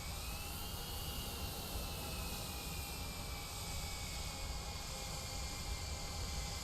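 A simulated Airbus A321 taxiing to the gate in Microsoft Flight Simulator 2020, a steady jet-engine hum with a high whine gliding slowly downward, constant and even with no talking.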